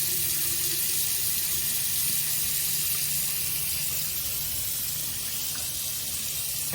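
A bathroom sink faucet runs at good pressure, a steady close hiss of streaming water that continues unbroken throughout.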